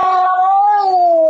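A cat meows in one long, drawn-out wavering call, close and loud, with no other sound around it.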